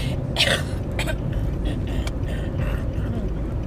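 Throat clearing and coughing from someone getting over a cold, a few rough bursts near the start over a steady noisy background.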